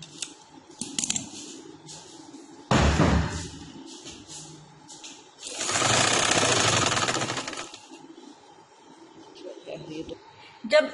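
Sewing machine stitching the neckline of a halter-neck suit, rapid mechanical whirring in two long runs with short bursts and pauses between, close up, interleaved with someone talking.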